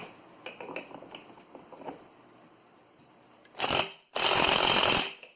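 An impact wrench set to reverse fires two loud, close bursts, a short one and then a longer one, while tightening a reverse-threaded starter clutch nut on a Yerf Dog Rover UTV engine, following quieter handling clicks.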